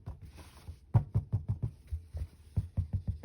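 Taut fabric stretched in an embroidery hoop is tapped by a finger, giving a series of soft, low, drum-like thumps in an uneven rhythm, close and fairly quiet, with no talking.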